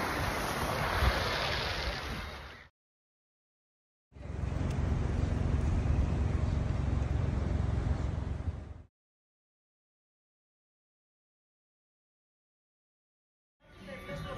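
Surf washing ashore at Kamari Beach on Santorini, a steady broad rush of waves and wind in two long stretches separated by silence, with a brief return at the end.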